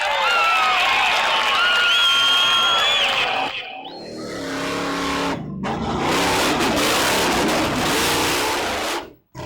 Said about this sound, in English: The crowd cheering the king of the monster trucks